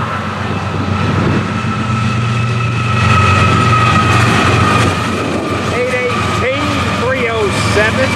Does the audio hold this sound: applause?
no